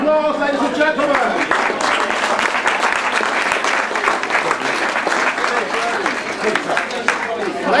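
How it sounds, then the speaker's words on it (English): A crowd at a 2014 sidecar grasstrack meeting applauds loudly and continuously, giving the riders a big round of clapping. A voice carries over the clapping for much of the stretch. "Give them another big round of applause, ladies and gentlemen."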